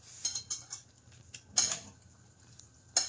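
A utensil stirring a ginataang langka mixture with sugar in a pot, giving a few light scraping clinks spaced irregularly, quiet and close, with no talking.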